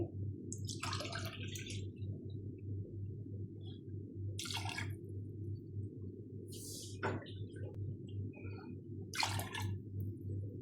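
Milk and then water are poured into a pot of jeera rice in several short, separate splashing bursts over a low steady hum, fairly faint and heard close up.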